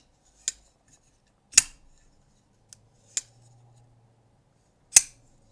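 A Kubey folding knife with a front flipper snaps open and shut in four or five sharp, metallic clicks, spaced apart and close, with quiet gaps between them.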